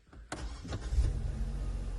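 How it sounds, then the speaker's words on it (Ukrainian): A 2010 Renault Grand Scenic 3 2.0 petrol automatic cranks briefly and catches, settling into a low, steady rumble at close range. "як бачимо, у нас автомобіль завівся, працює тихенько"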